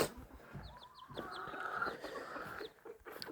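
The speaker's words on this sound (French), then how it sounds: "Donc ça, c'est un coq." A rooster with a large comb clucks in short repeated calls at a backyard poultry run, fairly faint, with other fowl sounds and soft background noise around it.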